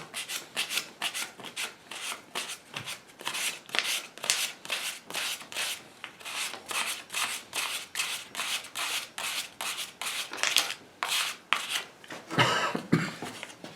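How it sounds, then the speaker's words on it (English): Hand sanding of an English walnut gunstock with 320 grit paper: a steady run of rhythmic rasping strokes, roughly two per second, close and fairly loud with no voices, ending in a brief rougher scrub. "There's no need to go any finer at this stage of sanding"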